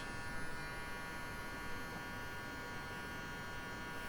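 An electric hair trimmer blending a beard into a taper hums and buzzes steadily, close and faint, with no talking.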